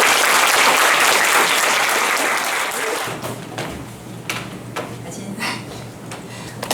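Audience applause at an academic conference, loud and dense clapping for about three seconds, then fading to scattered claps and thumps.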